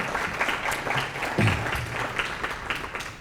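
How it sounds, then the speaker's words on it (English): An audience at the Bagels and Business 2025 event applauds in a dense, continuous burst of clapping that fills the room evenly for a few seconds. "I appreciate the applause."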